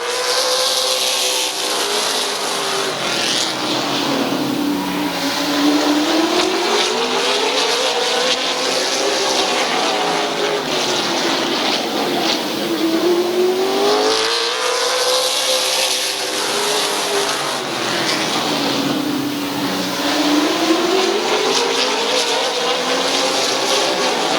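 Race cars circle Midvale Speedway on the opening lap, engines rising and falling in long sweeping pitch waves as they pass and fade around the oval, loud and continuous, with no one talking.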